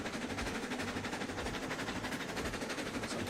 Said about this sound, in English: Glad to see the train is still vibrating.